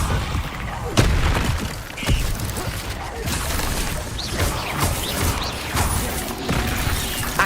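Incendio fire spell cast during combat in the video game Hogwarts Legacy: booming, crashing bursts over a steady rumble of battle noise, with a few sharp impacts.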